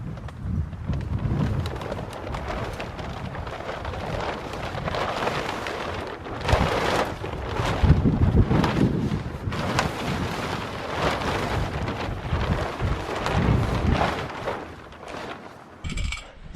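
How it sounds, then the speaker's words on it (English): Gusty wind buffets outdoors during installation of plastic end-wall panels, a broad roaring rush that swells and fades in uneven surges across the whole span, loud and close, with no talking. "Every time one of those wind gusts comes, it's like 1 step forward and 2 steps back."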